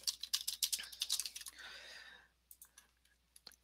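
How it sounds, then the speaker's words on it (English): Quick bursts of close, faint keystrokes on a computer keyboard as a title is typed, with a brief soft rustle in the middle and a few final taps. "type in a title."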